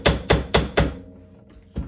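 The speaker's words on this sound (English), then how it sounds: "Also, I like it to really hammer it before I do that" Four sharp metallic hammer strikes on copper in quick, even succession, then a brief pause and one more blow, close and loud.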